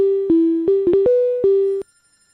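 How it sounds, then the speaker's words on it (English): A telephone ringtone sounds in a radio talk-show studio: a run of loud, steady electronic tones that shift pitch in short segments for almost two seconds, then cut off into silence. "How do I answer this again? I've forgotten how to answer the phone."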